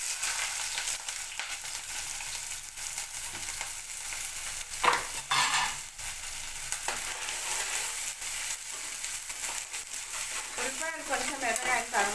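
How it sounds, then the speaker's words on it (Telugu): Onions frying in oil in a pan on the stove, a steady broadband sizzle running throughout with occasional stirring scrapes. "స్టవ్ వెలిగించి కొంచెం ఆయిల్ వేసుకొని ఉల్లిపాయలు కోసి పెట్టుకున్నా"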